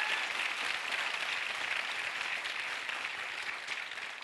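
A vast crowd roars and applauds at the Indianapolis Motor Speedway after Jeff Gordon wins the inaugural Brickyard 400 NASCAR stock car race, a steady, dense wash of cheering that holds at an even level throughout.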